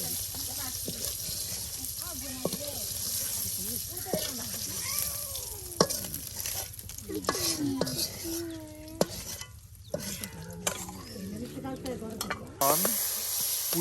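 Malabar spinach flowers fry in hot oil in a pan, a steady sizzle with stirring clatter running throughout, while a voice talks over it and a cat meows now and then in the background.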